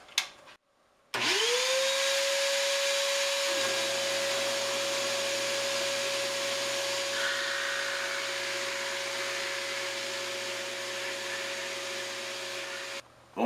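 A drill press motor starts after a brief quiet moment in a woodworking shop, spins up to a steady whine and runs continuously for about twelve seconds before shutting off; no one speaks.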